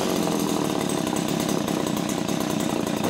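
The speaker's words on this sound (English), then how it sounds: "We'll start her up and run her until that gas is in there." A small gasoline engine running on stale gas buzzes loud and close, a harsh, steady high-pitched whine with rapid pulsing and slight unevenness in its tone.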